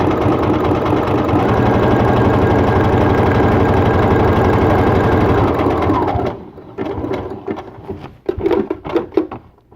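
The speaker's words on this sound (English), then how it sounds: "I'm almost done stitching down the front portion of this applique" An electric sewing machine stitches down an appliqué on a Henley T-shirt with a loud, steady, close mechanical whir for about six seconds, then stops, followed by scattered handling clatter and rustling of fabric.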